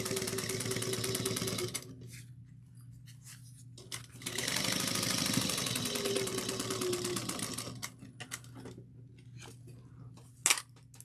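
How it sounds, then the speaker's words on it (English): A sewing machine runs in bursts, top stitching the lining of a tote bag, its rapid needle chatter close and steady, separated by quiet pauses and a small click near the end. "You're going to top stitch on the lining, 1/8 of an inch."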